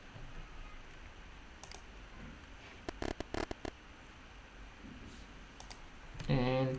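Typing on a computer keyboard comes as sparse quiet clicks and a short burst of keystrokes in the middle, with a voice talking faintly in the background.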